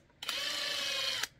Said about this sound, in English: you have to drill the retention screws on top